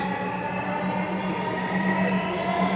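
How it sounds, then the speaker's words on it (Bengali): Inside a metro rail train pulling away from a station, a steady close rumble of rolling wheels under a sustained motor hum, even and unbroken. "ছেড়ে দিল মেট্রো রেলটি হালপুরবি স্টপেজ থেকে"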